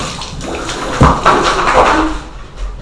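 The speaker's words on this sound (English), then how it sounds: "I will rinse the soap off." Water splashes and runs as soap is rinsed off a Great Dane during a bath, a loud, close, uneven gush with a sharp splash partway through.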